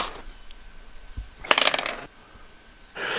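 A bag of tabletop game dice is opened and the dice are handled, making a brief close burst of clicking, clattering plastic, with quieter rustling around it.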